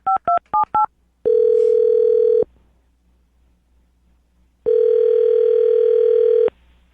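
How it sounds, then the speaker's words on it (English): Four quick touch-tone beeps as a number is dialed, then two long ringback tones separated by a pause. "I'm going to dial this phone number right now."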